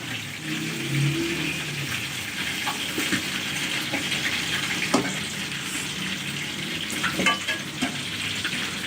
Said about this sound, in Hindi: ये देखें मछली जो है फ्राई हो रही है